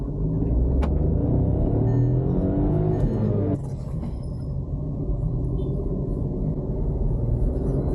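A Skoda Kushaq 1.0 TSI with a manual gearbox and 114 bhp pulls hard in first gear, its engine droning loudly with a rising pitch. A brief gear change at about three and a half seconds leads into a steady second-gear rumble. No one speaks.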